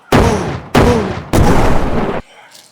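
Three deep, heavy booms come one after another at a steady pace, used as a playful rating sound effect. Each is loud and close with a long rumbling decay, then a faint sound follows at the end.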